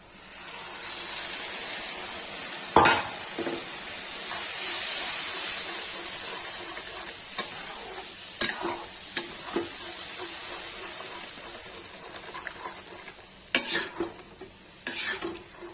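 Whisked curd poured into fried onions in a pan for kadhi, with steady sizzling under stirring and a few sharp spoon-on-pot clinks and scrapes scattered throughout.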